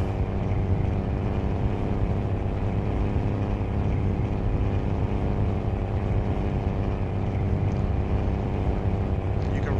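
Truck engine in American Truck Simulator, driving from Hermosillo to the Chihuahua Mountains with the engine brake off: a loud, steady droning hum with no talk over it.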